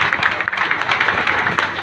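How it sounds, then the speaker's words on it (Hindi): Applause from a seated audience at an Amway business seminar, a steady wash of many hands clapping at once, moderately loud and continuous for a couple of seconds with no pauses. "अब आप तालियां बजा"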